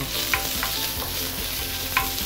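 Pork lard stir-fried over medium-high heat for Singapore Hokkien prawn mee, a steady sizzle with scraping stirs and a few sharper clinks of the spatula, close and continuous with no voices.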